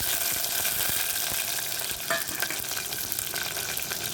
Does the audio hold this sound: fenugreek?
yes